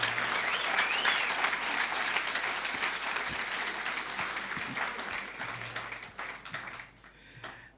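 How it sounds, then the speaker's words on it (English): A seated audience at a Ghanaian youth entrepreneurship and leadership event gives a round of applause for a company president: sustained, dense clapping that holds steady, then thins and fades toward the end. "A round of applause for him."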